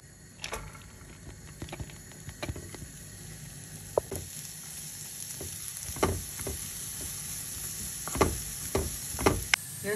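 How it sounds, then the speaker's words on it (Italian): Onions sizzling and crackling in hot oil in a pan, with intermittent utensil scrapes and stirring clatter over a steady frying hiss. "aggiungiamo la cipolla e lasciamo soffriggere"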